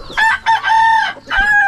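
A loud, close rooster crow in several drawn-out, wavering bursts, standing alone without talking.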